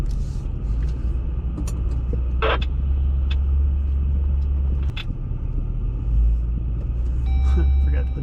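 A Jeep rolling onto the Raspberry off-road trail in the Black Hills after airing down, with a loud, steady low engine and road rumble and brief clunks as people talk inside the cab.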